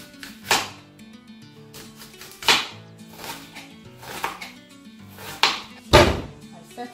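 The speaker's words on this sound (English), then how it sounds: "I chop the onions like this." Onions being chopped with a knife on a board while cooking Nigerian fried rice: several separate, sharp knocks spaced about a second apart, close and clear, with no talking.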